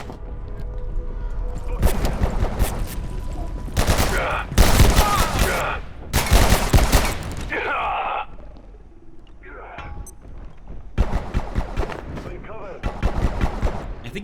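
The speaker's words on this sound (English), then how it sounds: "I think he's shooting the wall at me." Bursts of automatic gunfire from a tier 3 bot in the video game Abiotic Factor, several loud rapid volleys separated by short pauses, mixed with other game sounds.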